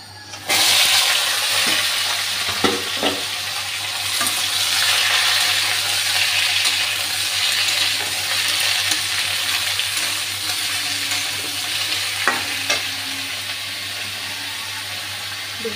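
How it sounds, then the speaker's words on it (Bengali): Ridge gourd frying in a pan gives a steady, loud sizzle with a constant low hum underneath, close by and continuous, with no talk over it. "এখন ঝিঙ্গেটা ভেজে নিচ্ছি।"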